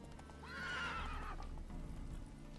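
A video-game horse lets out a loud, clear whinny near the start, followed by softer hoof sounds fading out.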